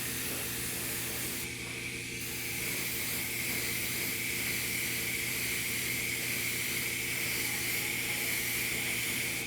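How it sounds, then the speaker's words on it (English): An airbrush sprays fine gray mist coats onto a quarter-scale custom figure, producing a continuous close hiss with a brief pause near the start before the steady spray resumes. "I'm going to airbrush it."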